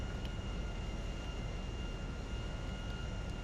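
Steady, droning airplane engine noise as an aircraft taxis at a sunny desert airfield in a GTA video game, a constant broadband rumble with a faint high whine and no pauses.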